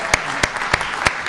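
Several sharp claps at a trustees board meeting, evenly spaced and fairly close, standing out clearly over a low room hum rather than forming a full wave of applause.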